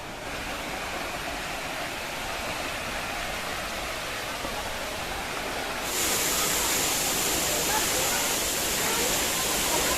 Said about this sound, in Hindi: गाइस अभी हम लोग यहाँ पे वाटरफॉल में पहुँच गए हैं।